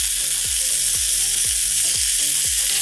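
Marinated chicken pieces sear in hot oil in a preheated pot, a loud, steady sizzle that fills the whole clip with no one speaking.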